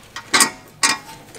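Ratchet wrench working an 18 mm bolt during a Brembo brake kit installation on a V6 Charger, two quick sharp clicking bursts close by, with no talking.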